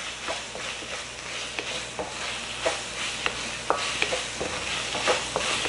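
Ginger, garlic and sweet miso stir-fry in a pan, a soft steady sizzle broken by irregular scraping and tapping of the utensil.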